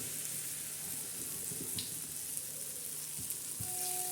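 Malpua batter of jaggery, wheat flour and rice flour fries in hot oil, a steady close hiss and crackle that runs throughout, with a few small pops and ticks scattered through it.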